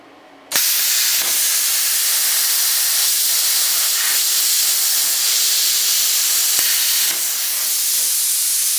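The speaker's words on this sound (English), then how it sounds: "Can't get them off, but I need those. Plasma cutter." A plasma cutter slices washers off threaded bolts, a loud, steady, close hiss that bursts on suddenly and runs without a break, with brief crackling pops mixed in.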